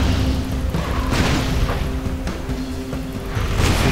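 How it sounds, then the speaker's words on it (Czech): Explosion in the action role-playing game Torchlight 2, a loud sustained rumbling blast with crashing debris over a dense game soundscape, swelling again toward the end. "To byl výbuch."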